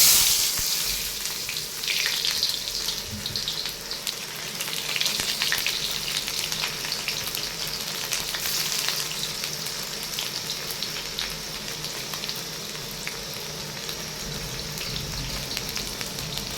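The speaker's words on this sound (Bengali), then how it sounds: "তেল গরম হয়ে গেছে, দিয়ে দেবো পেঁয়াজ কুচি।" Chopped onion sizzles loudly and steadily in hot oil for a home-style fish dish, a close, dense hiss that starts strong and then eases slightly. No voices.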